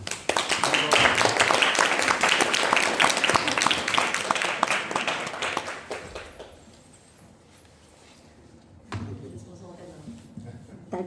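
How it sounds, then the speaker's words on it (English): A lecture audience in Rishikesh applauds loudly for several seconds, a dense burst of clapping that fades out toward the middle, followed by quieter room sound and a few scattered noises. "please greet him with one big applause"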